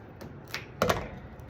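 Tape pulled and pressed down onto a weaving loom, giving a few short crackly bursts with one louder rip-and-tap cluster midway, close and otherwise quiet.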